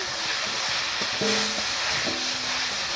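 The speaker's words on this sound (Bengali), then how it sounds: "ভালো করে নেড়ে চেড়ে ভালো করে নেড়ে নেব।" Potato and eggplant pieces are stirred and fried in a pan for a traditional Bengali rui fish curry, with a steady close sizzle under scraping strokes of a spoon and no talking.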